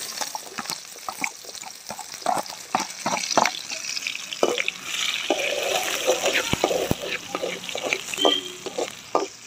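Onions go into hot peanut oil in a village-style mutton offal curry, giving a lively crackling sizzle with sharp pops and spatters throughout. The frying sounds close and fairly loud.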